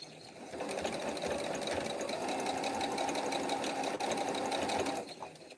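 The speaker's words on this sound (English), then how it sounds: "now I'm going to sew those 4 corners" A sewing machine stitches the corners of a mug rug's self binding, its rapid, even needle chatter running steadily for several seconds before slowing to a stop.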